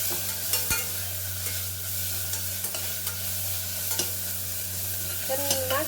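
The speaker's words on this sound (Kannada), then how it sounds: "ಇವಾಗ ಸೊಪ್ಪು ಹಾಕ್ತೀನಿ, ಮೆಂತ್ಯ ಸೊಪ್ಪು ಹೆಚ್ಚಿಟ್ಕೊಂಡಿದ್ವಲ್ಲ ಅದನ್ನು ಹಾಕಿ ಚೆನ್ನಾಗಿ ಬಾಡಿಸ್ತೀನಿ" Chopped fenugreek leaves sizzle steadily in a hot pan while a spoon stirs them, with soft scraping strokes repeating over a constant frying hiss.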